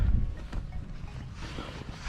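Wind buffeting a microphone outdoors during metal detecting, a low, rumbling roar that is loud at first and then keeps gusting steadily underneath with no talk.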